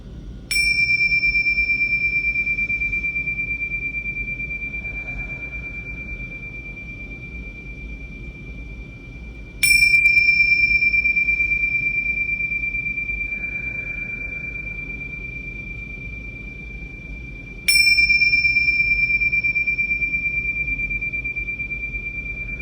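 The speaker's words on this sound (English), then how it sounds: "3 deep breaths over the ringing of the bells while I'm ringing the bells" Meditation bells ring three times at even intervals, each a clear bright strike with a long, slowly fading tone that sustains until the next ring, alone over a quiet background.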